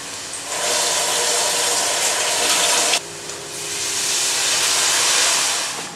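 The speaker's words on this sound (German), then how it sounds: "Hier kocht meine Soße mit Chili." Chili sauce with vegetables simmering in a pot on a home stove gives a steady, close, fairly loud hiss like bubbling steam, with a brief dip in level midway.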